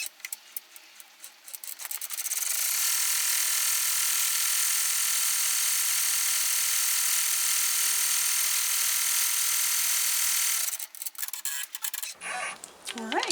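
An embroidery machine sewing a bean stitch on an in-the-hoop watermelon luggage tag, a loud steady high-pitched mechanical whir that runs for about eight seconds, with brief handling clicks and rustles before and after.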